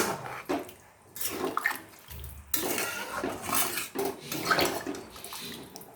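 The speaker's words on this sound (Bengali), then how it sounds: "এবার খুব ভালো করে নাড়িয়ে দেব।" A spoon stirs chicken curry in a cooking pot after boiled-chicken stock is added, giving intermittent scraping and metallic clinks with wet sloshing, moderately close and free of speech.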